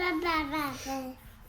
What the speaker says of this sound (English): You can hear my son in the background.